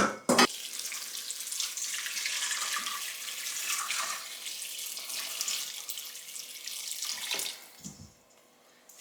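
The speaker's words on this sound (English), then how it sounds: "Stockfish and the dry fish. Going to wash it with hot water." Hot water runs steadily from a tap over stockfish and dried fish being washed for egusi soup, a continuous splashing stream that cuts off near the end.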